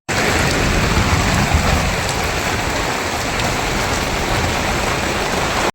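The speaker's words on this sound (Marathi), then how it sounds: "दाखवते तुम्हाला कसा पाऊस लागतो वारा पण खूप आहे" Heavy rain pours in a dense, unbroken roar, with wind rushing through it, loud and close throughout.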